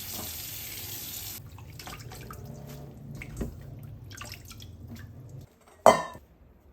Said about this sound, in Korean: 흐르는 물에 불순물만 살짝 헹궈내요.